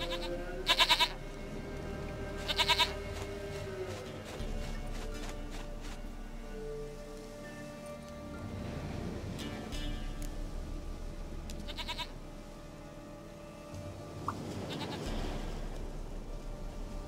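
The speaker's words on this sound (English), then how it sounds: "Dearest, sweetest goat!" A goat named Princess in the video game The Witcher 3 bleats loudly twice near the start, then again later, over a quiet game ambience.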